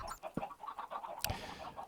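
Chickens in Minecraft give short, soft clucks in a quick irregular run, with a brighter burst near the end, heard close against a faint background.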